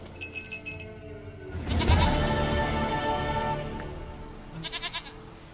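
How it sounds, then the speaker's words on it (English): A goat in The Witcher 3 video game bleats in one drawn-out, wavering call over a steady game ambience with light clinking. "Goat of mine, dearest,"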